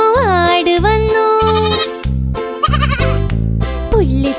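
A goat bleats in repeated wavering cries, loud and near, set against an upbeat children's song with a steady beat.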